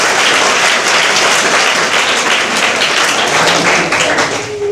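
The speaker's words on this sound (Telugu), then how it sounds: "అబ్బాయి ఒకసారి చప్పట్లు కొట్టండి ఒకసారి." A group of students claps their hands together in loud, sustained applause, the dense crowd clapping running evenly throughout before easing slightly at the end.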